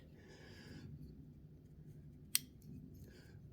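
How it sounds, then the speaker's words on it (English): A single sharp click from the adjuster of a Competition Engineering front shock absorber, one brief crisp snap standing out near and alone over a low steady background hum. "There's the heavy click. There's the next click. And the third click."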